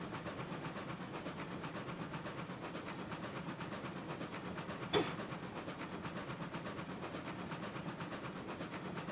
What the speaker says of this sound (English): I want to hear that engine beat more.